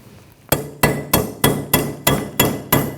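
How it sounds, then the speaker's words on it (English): Hammer strikes a cold chisel against a weathered, seized front wheel bearing on a 2007-2017 Jeep Patriot 2.4L, eight sharp metallic blows at a steady, even rhythm, close and loud with no talking. "after using the chisel and the hammer, I've kind of loosened it up enough"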